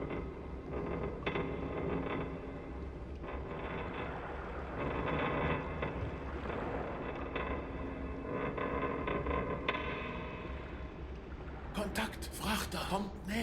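A freighter's engine and propeller churn as a steady, dense low rumble with faint rhythmic mechanical ticking, heard through a submarine hydrophone in the Silent Hunter 3 naval game; a brief burst of sharper noise comes near the end.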